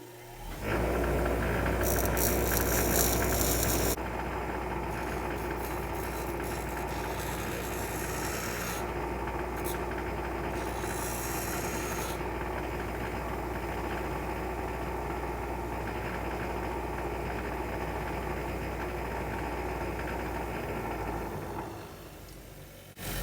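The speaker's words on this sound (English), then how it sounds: "I'm going to take them on the grinder and smooth them out" A power grinder smoothing the clipped-off edges of elk antler pieces for a plaque: a continuous loud motor whine with a rough grinding rasp held steady for about twenty seconds, then winding down.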